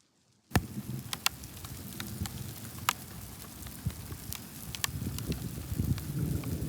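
Rain falling steadily during a thunderstorm in the countryside near Corson, South Dakota, starting abruptly as a dense, hissing wash with scattered sharp drop ticks, growing slightly heavier and closer over the seconds.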